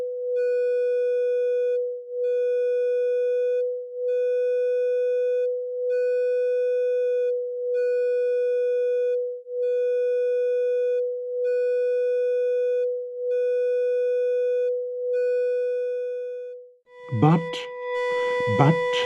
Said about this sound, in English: the detuning is sufficient to bring a small heterodyne beat to the sound, still not sensational but noticeable